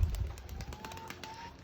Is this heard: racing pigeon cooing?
yes